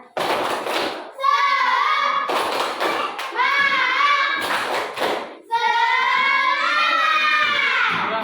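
A group performs the rhythmic 'tepuk semangat' clap, with bursts of sharp hand claps alternating with loud chanted group voices, close and energetic, in an ice-breaking session.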